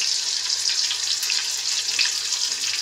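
Chopped onion and green chilies frying in hot oil in a pan, a continuous bright sizzle at close range with no talking over it.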